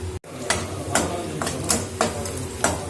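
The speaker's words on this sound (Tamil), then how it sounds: "ஒரு 10-12 பல்லு பூண்டு நல்லா ஃப்ரை பண்ணிக்கோங்க" Garlic cloves and ginger pieces frying in hot oil in a pan for paneer butter masala, a steady close sizzle broken by repeated stirring scrapes roughly every half second, with no talking.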